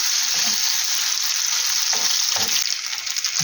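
Steady, loud sizzling of potato pancakes frying in a hot pan, with occasional soft scraping sounds and no talking.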